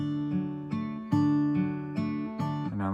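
An acoustic guitar is fingerpicked at full speed, playing a short fragment of a song: clear plucked notes in a steady rhythm, about seven attacks in three seconds, close and fairly loud.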